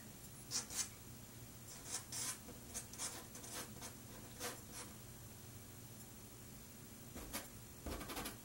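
Rembrandt soft pastel dragged across paper in a pastel painting of a February sunset, producing soft, intermittent scratchy strokes in irregular bursts, some quick and bright, others faint, with pauses between them.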